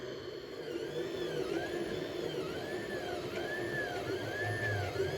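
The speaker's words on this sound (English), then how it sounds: "The printer is preparing to start the process" A 3D printer warming up and beginning a print, giving a steady mechanical whir with repeating rising-and-falling stepper-motor tones over a constant fan hum, close and continuous, with no voices.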